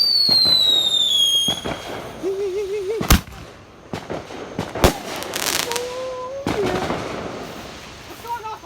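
Fireworks go off outdoors at night: whistling rockets rise and fall between several sharp, loud bangs and crackles, some close and some farther away, while people talk nearby.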